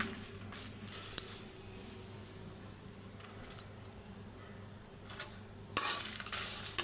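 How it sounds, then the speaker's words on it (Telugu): Sesame seeds, dried red chilies and curry leaves fry in a pan for flaxseed podi, a soft steady sizzle with a few light stirring scrapes and a brighter crackle near the end, faint and without talk. "నువ్వులు, ఇవన్నీ వేయించుకుందాం. ఇప్పుడు కరివేపాకు కూడా వేస్తున్నాం."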